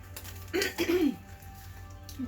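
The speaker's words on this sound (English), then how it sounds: "Clear my throat, okay." A person clears their throat once with a short, rough guttural rasp, fairly close and quiet, followed by near silence.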